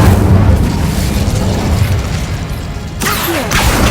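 The Incendio fire spell cast in the Hogwarts Legacy video game: a loud, dense roaring burst of fire that fills the clip, with a sharp crackling flare near the end. No voices are heard.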